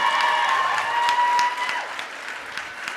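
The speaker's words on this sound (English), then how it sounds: "Give her another round of applause because she's a great teacher." Audience applause at a 2016 graduation ceremony, lively clapping with a few cheers from the crowd, strong at first and then thinning toward the end, with some whistle-like tones over it.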